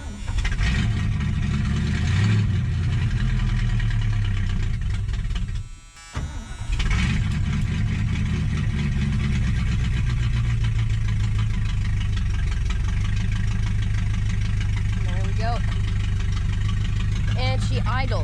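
An old Mercury car engine idles steadily at close range, a low even rumble that holds for the whole stretch apart from a brief dip near the middle, with faint squeaks late on.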